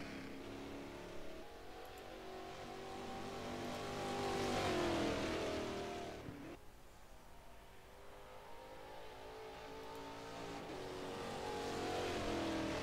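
A race car in a driving video game accelerates hard, its engine rising to a peak, then drops a gear with a sharp change in pitch and revs on into the corner, loud and close.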